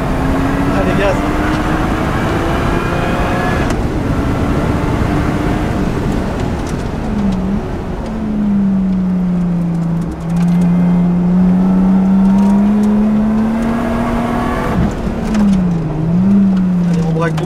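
A loud 500-horsepower Lotus engine revs and accelerates close by on a track day, its pitch rising and falling through gear changes, with a voice speaking over the roar.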